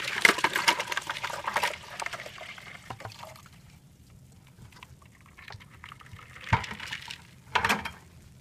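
Maple sap is poured through a filter into a bucket, giving a soft, close liquid splashing and trickling in irregular bursts that fade to a quiet drip before two louder pours near the end.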